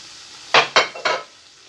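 Chopped tomatoes hit a little hot oil, about two spoonfuls, in three quick sharp sizzling bursts close by, each fading fast before a quiet pause.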